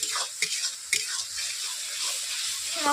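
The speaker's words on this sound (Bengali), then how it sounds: "মশলা থেকে তেল ছিটে যাচ্ছে দেখতেই তো পাচ্ছেন" Spice paste fries in oil in a pan for a Bengali katla fish curry, a continuous bright sizzle with a few sharp spattering pops early on, close and fairly loud, with faint voice-like sounds underneath.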